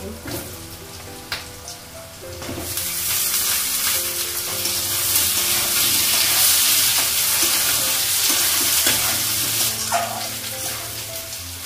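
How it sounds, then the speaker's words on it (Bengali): Chopped papaya fries with onions, green chilies and cumin seeds in a pan, the sizzle swelling after a few spatula knocks into a loud, steady crackle with occasional scrapes. "পেঁপেটা ভাজা হয়ে গেছে"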